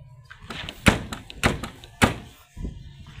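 A 1985 Suzuki FX car door being shut, giving four distinct thunks spaced about half a second apart, close and fairly loud, with quiet background noise between them.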